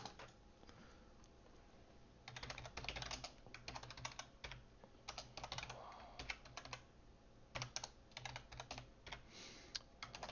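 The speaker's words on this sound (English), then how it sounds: "we are just going to start typing some code here" Steady bursts of typing on a computer keyboard while entering code for an Android app, close and clear with irregular clusters of key clicks and short pauses between them, no talking.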